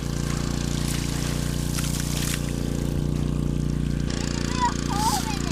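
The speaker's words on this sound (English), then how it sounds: "Some pump's pouring water out." A borrowed sump pump pours dirty pond water out through a leaky hose, a steady trickling, splashing flow running continuously under a low pump drone, with people talking over it.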